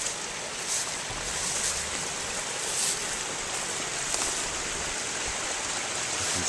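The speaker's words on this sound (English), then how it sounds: "here's a great dam. It's filling up this meadow down here" Steady broadband rush of water pouring over a beaver dam that is flooding a mountain meadow in the Uinta wilderness, continuous and moderately near with no voices.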